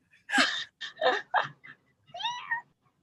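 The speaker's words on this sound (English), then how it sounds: "It's Doll mewing at the cats" Cats meow in a series of short, close mews and whiny cries, several bursts followed by a longer rising and falling call, with silence between.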